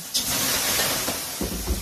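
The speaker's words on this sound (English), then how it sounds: "You can throw water on the rocks" Water splashed onto hot rocks in a Finnish sauna sets off a broad, steady hiss of steam that fills the whole clip close by, with a couple of soft low thumps near the end.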